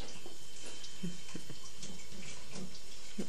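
Faint, steady running water from a tap with a soft hiss, broken by a few small clinks and splashes, no voices.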